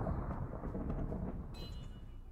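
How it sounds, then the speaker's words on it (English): Thunder rumbling in a Minecraft storm after a lightning strike, a loud low continuous roll that fills the whole stretch with no talking over it. "Getting a good handle of this lightning."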